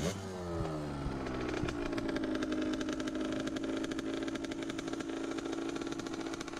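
A child's manual-clutch dirt bike engine revs steadily up close, a buzzing mid-pitched drone that climbs at the start and then holds with a slight waver, with no talk over it.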